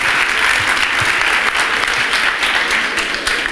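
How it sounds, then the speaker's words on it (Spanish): Loud, dense applause from an audience at a talk on creativity and innovation, a steady wash of many hands clapping without pause, close and filling the space. "aplauso"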